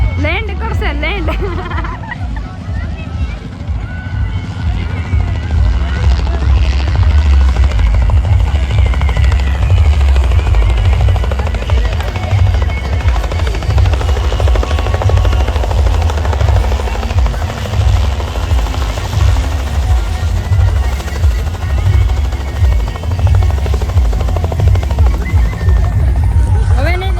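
A helicopter at a wedding procession in Gujarat comes in to land, its heavy rotor drone loud and steady throughout, with a crowd chattering in the background.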